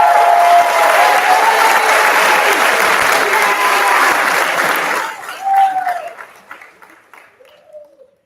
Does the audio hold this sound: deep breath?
no